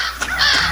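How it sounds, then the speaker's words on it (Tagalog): Several crows caw harshly close by, their rough calls overlapping in a brief noisy burst. "Mga uwak!"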